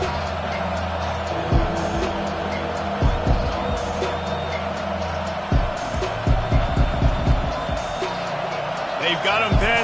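A stadium crowd roars and cheers in a football video game, a steady wash of noise beneath play-by-play commentary, with thumps and swells as the action unfolds.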